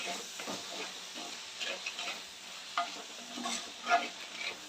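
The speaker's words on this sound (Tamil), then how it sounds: "உப்பு சேர்த்து கொஞ்சம் நல்லா வதக்குங்க" Onions and tomatoes sautéing with salt in a pan, a soft low sizzle with repeated scraping and stirring strokes of the spoon, close but fairly quiet.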